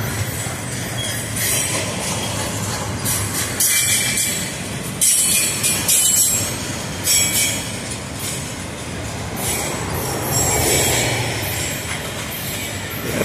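A mixed autorack and intermodal freight train rolls steadily past close by at a rail junction, wheels clacking over rail joints and squealing at times, loud and continuous throughout.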